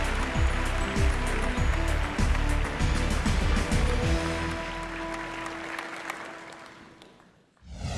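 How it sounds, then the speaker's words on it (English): An awards-ceremony audience at a green building summit gives sustained applause for a lifetime achievement honoree, a dense, steady roar of many hands that carries on evenly before tapering off and dropping away at the end. "let's keep that applause going"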